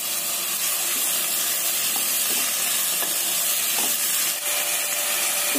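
Garlic, tomatoes, curry leaves and carrots sizzle in a pan for a pasta dish, a dense, loud hissing fry with faint scattered taps of stirring underneath.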